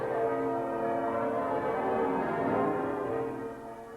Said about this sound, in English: A peal of bells at York Minster, first heard 50 years ago when hostilities ended, was used again today as a mark of respect